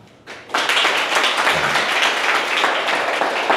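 An audience of public-sector employees at a lecture applauds themselves. A short lull gives way to loud, dense, sustained clapping that fills the room to the end.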